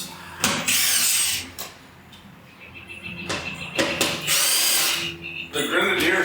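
A power tool drives the last two bolts on a Bison gear table fitted to an Ineos Grenadier, with two or three loud whirring bursts separated by quieter pauses, close by.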